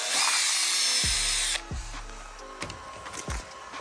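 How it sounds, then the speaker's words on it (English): A power drill whines loudly at high speed for about a second and a half while drilling through a BMW E46 headliner, then stops, followed by softer rustling and handling noises. "you drill a hole like this,"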